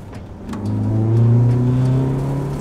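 A 113hp Golf GTI petrol engine in a VW T25/T3 van revs up accelerating in second gear, a steady rising hum that grows louder and holds, heard close with no talking.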